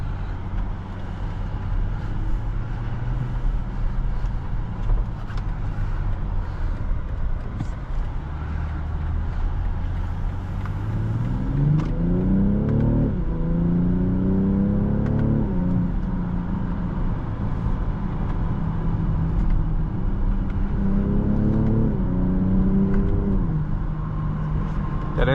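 A 2023 BMW X6 xDrive40i in Sport Plus mode accelerating on the road, its engine rising through revs in two strong pulls with gear shifts between, over steady road and cabin drone.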